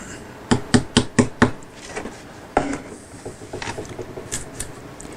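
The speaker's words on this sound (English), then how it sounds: "tap it down with a convenient hammer" Five quick, sharp taps of a hammer driving a cocktail stick into a hole in luthier work, steady rhythm, close by, then a single louder knock and some softer scattered handling clicks.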